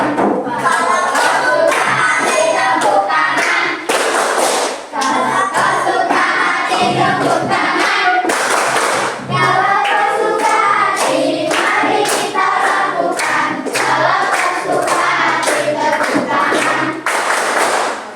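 Children in a classroom clap their hands along with a sung children's song. The rhythmic claps sit under loud group singing that carries on steadily throughout.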